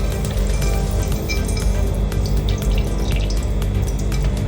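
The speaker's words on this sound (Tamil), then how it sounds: "அந்த ஆயிலையே நம்ம வந்து இதில் ஊற்றிடலாம்" Frying oil, left over from frying fish for a chilli fish fry, is poured into a hot pan in a home kitchen, making a steady close trickling and dripping with faint clinks throughout, and no talking.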